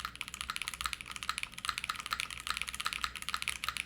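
Mechanical keyboard with JWK switches on a polycarbonate plate, typed on steadily: a close, dense stream of rapid crisp clacks with an even rhythm and no talk.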